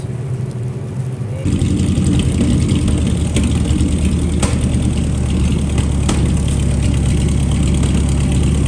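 A 1940 Cadillac 60 Series barn find's engine runs close and loud with its drive shaft spinning, a dull idle swelling into a heavier steady rumble after the first second and holding without talk.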